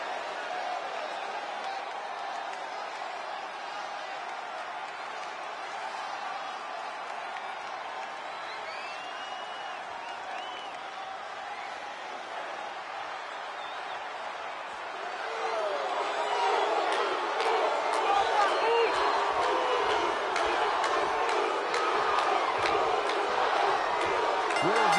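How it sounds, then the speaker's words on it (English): A wrestling arena crowd roars with a steady wash of noise that swells noticeably louder about halfway through, sustained and busy with scattered shouts. "Would you listen to this crowd?"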